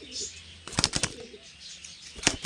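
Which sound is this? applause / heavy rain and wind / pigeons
pigeons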